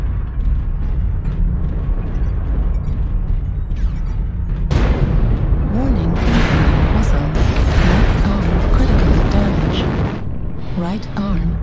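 Incoming missiles strike and explode around a CRD-6T assault mech in a video game, with heavy booming blasts and crackling bursts over a continuous low rumble, close and loud.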